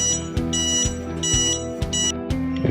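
A home security system alarm, set off when a door is opened, sounds loud, close electronic pulses that repeat in a steady rhythm, with no talking.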